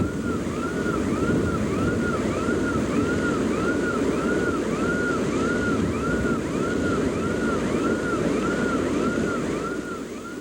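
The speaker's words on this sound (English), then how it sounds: "you hear a siren in the background. That's the alarm system on your car going off." A car alarm wails in the background during the 1980 Mount St. Helens eruption, a repeating rising-and-falling siren tone heard under heavy, roaring wind noise for the whole stretch.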